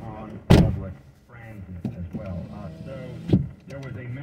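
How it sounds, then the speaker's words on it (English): Two heavy thuds of a car door slamming shut, one early and one later, close by, amid people talking. "Stop slamming the door!"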